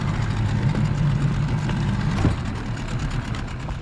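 A boat's smoking engine runs steadily nearby, a low rumbling drone with constant loudness and a slight rattle, no talk over it.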